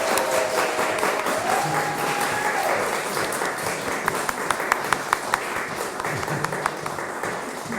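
A concert audience at a festival gives a standing ovation, loud sustained applause with dense clapping and a few cheers, steady throughout.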